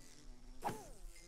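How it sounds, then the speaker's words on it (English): A broken beehive in Minecraft releases a short buzzing swoop from a bee, a single brief burst over quiet game ambience. "Okay, I just killed a happy family of bees."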